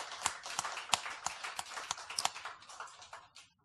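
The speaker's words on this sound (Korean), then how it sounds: "박수로 한번 영광 돌리시기 바랍니다" A church congregation at a Sunday worship service in Uijeongbu applauding to give glory, heard as quiet, scattered hand claps with an uneven rhythm that thin out and stop after a few seconds.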